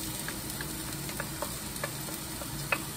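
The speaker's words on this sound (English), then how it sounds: "I'm gonna let this saute for a few minutes" Shallots sauté gently in warm olive oil, a soft, fairly quiet sizzle with light intermittent stirring clicks close by, no talking.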